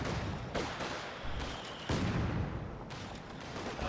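Pack howitzer artillery fire in Company of Heroes 2 during a 2v2 match, a few heavy booming shots at irregular intervals over a dense, continuous wash of battle noise.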